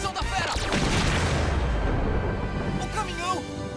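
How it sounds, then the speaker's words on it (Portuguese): Cartoon explosion of a brand-new truck, a heavy booming blast with rumbling low-end debris that swells loudly and then decays, with brief voices near the end. "Tinha mesmo que explodir um caminhão novinho."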